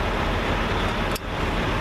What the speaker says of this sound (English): Sorry about the noise. Trucks are coming and going.